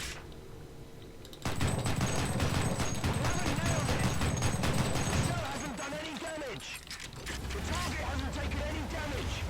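Tank cannon and gunfire in War Thunder from a Flakpanzer, a burst of rapid rattling shots kicking in abruptly and hammering steadily for several seconds before easing into lower mechanical clatter.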